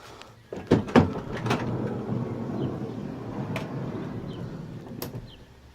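A freshly lubricated sliding side door on a 2010 Honda Odyssey rolls along its track, opening with a couple of loud knocks and a smooth sustained rumble, then a latch click near the end.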